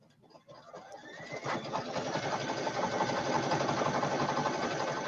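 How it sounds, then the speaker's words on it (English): An embroidery machine stitches a Halloween mug rug, speeding up into a steady, fast mechanical whir and rhythmic clatter that builds in loudness and continues without talk. "So we're just listening to Jennifer sew, actually embroider"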